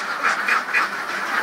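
Laying ducks quack at their evening feeding. There are several close, repeated quacking bursts in an uneven rhythm, with no talk over them.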